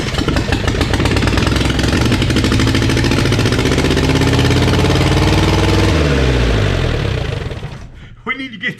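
A car engine is turned over and runs rough and loud without a hooked-up throttle cable, a steady close mechanical roar with knocking texture that shifts in pitch near the end, then cuts off abruptly.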